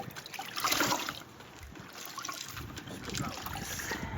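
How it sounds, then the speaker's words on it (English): A wet detailing towel is squeezed out over a bucket, giving soft trickling and dribbling water with some splashy rustle. The sound is fairly quiet and close, with faint background noise. "And then just squeeze it out."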